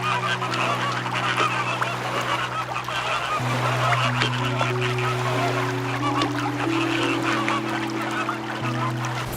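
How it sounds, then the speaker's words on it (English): A large flock of flamingos honks and gabbles continuously at a lake with thermal geysers, a dense, loud chorus of nasal calls filling the whole stretch. "flamingos."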